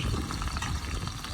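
Chopped onions fry in hot oil, giving a steady, close crackling sizzle with no pauses and no voices.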